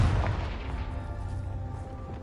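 A fiery blast spell from Hogwarts Legacy, heard as a deep rumbling boom with a heavy low-end burst at the start that decays into a sustained crackling roar, loud and close, with no voices.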